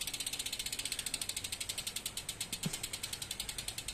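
A Novatec freehub ratchet on a high-profile carbon road bicycle wheel clicks in a rapid, even stream of sharp pawl ticks, close and steady as the wheel freewheels.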